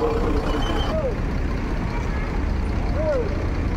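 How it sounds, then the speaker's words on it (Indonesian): A large ANS intercity bus rumbles into Kampung Rambutan bus terminal amid a loud, busy crowd of passengers, with a steady engine drone and two brief pitch-sliding tones over constant background noise. "untuk unit pertama yang masuk, satu unit bus ANS"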